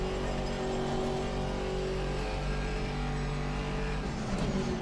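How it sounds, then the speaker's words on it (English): A Porsche race car in Assetto Corsa Competizione during Green Hell week, a steady, loud engine drone that holds constant throughout with no clear rise or fade. "here comes Finn in his speedy Porsche"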